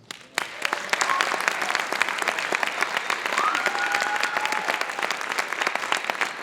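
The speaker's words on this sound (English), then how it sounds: "So can we give them just a nice big warm round of applause?" Audience at a high school band concert applauding the student performers, a dense wash of clapping that starts abruptly and holds steady, with faint voices and whistles mixed in.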